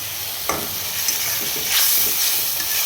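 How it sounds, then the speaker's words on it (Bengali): Spices and tomato paste fry in a pan for a rohu fish curry, giving a steady sizzle throughout with a few brief scraping stirs and a slightly louder burst toward the end. "দিয়ে মশলাগুলোকে ভালোভাবে কষিয়ে নেব"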